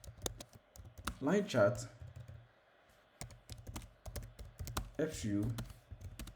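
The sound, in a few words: typing on a computer keyboard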